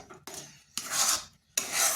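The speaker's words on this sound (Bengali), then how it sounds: "সুজিটাকে এইভাবে অনবরত নাড়তে হবে" A spoon scrapes through semolina cooking in water in a pan for a colourful baby sweet, three distinct rasping strokes separated by short pauses, close and fairly loud.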